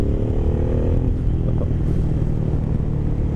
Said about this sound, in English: Now we got this GPR exhaust installed.